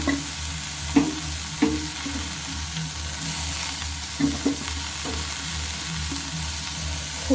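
Thinly sliced, washed cauliflower frying in a pan while being stirred, with a steady close sizzle broken by several distinct scraping knocks of the spoon against the pan.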